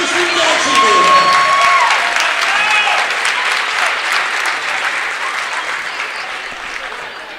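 A gymnasium crowd at a high school boys basketball senior night applauds two graduating seniors, loud sustained clapping with some cheering that gradually thins toward the end, a faint tone sliding briefly over it early on.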